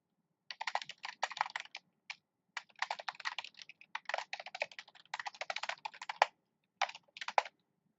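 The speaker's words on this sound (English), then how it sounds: "You can also override this, type a custom email." Typing a custom email on a computer keyboard: quick irregular bursts of close, crisp key clicks with brief gaps, in an otherwise quiet room with no talking.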